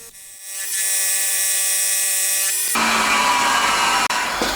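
A small metal lathe or machine cuts a connecting rod bearing shell for a handmade 125cc four-cylinder engine, first a steady whining tone, then a harsher, noisier grinding cut.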